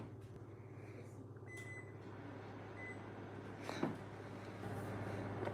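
A microwave oven runs with a steady low electrical hum, faint and close, broken by a couple of soft beeps and a brief clunk partway through.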